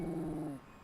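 Jojo, a grumpy dog, lets out a single short low growl that stops abruptly, faint and close, with no voices.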